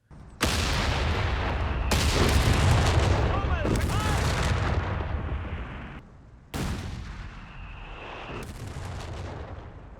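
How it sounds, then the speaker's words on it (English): Heavy battlefield gunfire and explosive impacts from Company of Heroes 3: loud booming cannon and artillery blasts with rattling shots and crackling debris, sharp onsets followed by long rumbling decays, in two separate bursts. "Relic say they have retuned attenuation, increasing the shooting sound and reducing the impact sound"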